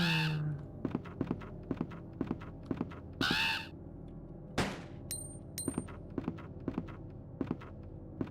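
Crows caw repeatedly in a Resident Evil 2 game scene, with harsh calls at the start and around the three-second mark, a low thud near the middle, and regular tapping footsteps continuing throughout.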